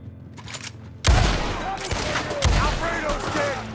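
Video-game gunfire crackles as riders approach, a burst of shots starting abruptly after a quiet opening and continuing loud and dense, with a second heavy volley midway, set over game music.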